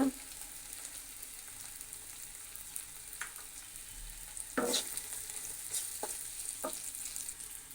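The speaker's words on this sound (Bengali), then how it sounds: "ভেজে নেব আমার পেঁয়াজটা বাদামি কালার হয়ে গেছে" Browned onion frying with ginger-garlic paste and salt, a quiet continuous sizzle with a few sharp spatula scrapes and clinks against the pan, close by and without speech.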